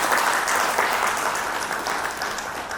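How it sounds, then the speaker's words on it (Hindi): An audience at a dealer meet claps in loud, dense, continuous applause that holds steady throughout. "और एक बार सभी हम सब अपनी मौजूदगी के लिए तालियां बजाते हैं"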